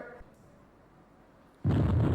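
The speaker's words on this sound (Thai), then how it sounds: "เราจะได้ยินเสียงระเบิดหนึ่งครั้ง" A single explosion sound effect, used in a computer-class lesson on editing sound for animation, bursts in loud and dense after a quiet stretch and keeps roaring to the end.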